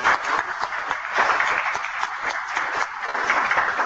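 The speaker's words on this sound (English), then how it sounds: "I think we should give the organizers a big round of applause for this." Audience applause for conference organizers at a legal aid keynote, a dense steady wash of clapping throughout, with faint speech traces underneath.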